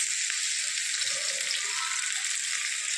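Mustard seeds and cumin spluttering in hot oil in a pan on a lowered gas flame, a steady bright crackle with faint scattered pops, no talking.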